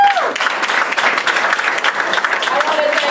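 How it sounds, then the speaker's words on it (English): Applause from an audience at a press conference for a grand opening, a steady, close wash of many hands clapping continuously. "So give Ron Moten a big round of applause"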